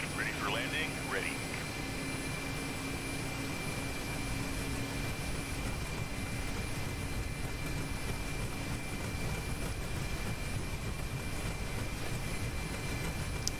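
Mi-8 helicopter in the DCS flight simulator landing vertically from a hover, a steady loud rotor and turbine roar throughout with people talking over it.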